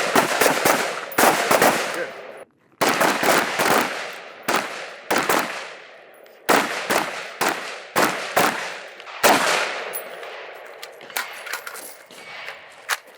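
Pistol shots fired in rapid strings during a speed reload shooting drill, loud and close, with sharp cracks in bursts separated by short pauses for the reload.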